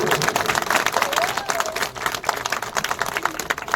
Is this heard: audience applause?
yes